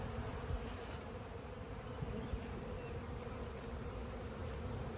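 Honey bees buzz around a nuc box outdoors, making a steady, dense, fairly quiet drone that continues without a break and has no voices over it.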